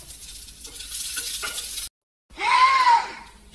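Garlic and chillies sizzle and get stirred in hot olive oil in a pan, a steady hiss with scraping, then a short silent gap before louder, closer sizzling resumes.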